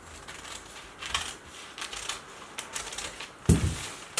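Scissors cut fabric for a dress neckline in a series of soft, close snips and crisp clicks, with a louder thump near the end.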